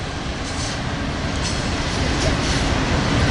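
Train rolling past close by on railway tracks at the end of a street, a loud, continuous roar and rumble of wheels on rail that holds steady throughout, with no speech.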